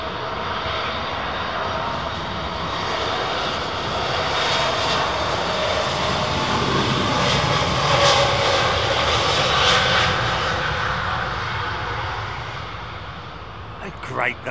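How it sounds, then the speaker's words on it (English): A small Lufthansa jet with Pratt & Whitney or LEAP engines roars past close and loud at a busy airport, swelling to a peak mid-pass and easing off, with someone talking over it. "those Pratt & Whitney's or Leaps, whichever they are, sound like little mini, you know, GE90s."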